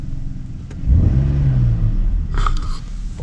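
A BMW 530i with hesitation at the accelerator gives one deep, close engine rev that swells and fades over about a second, followed by a lower rumble, with no talk.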